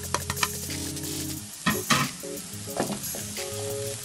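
Garlic, celery, onions and green peppers sizzle in leftover meatball oil in a pan, a steady close frying hiss broken by a few stirring scrapes and clinks, with no voices.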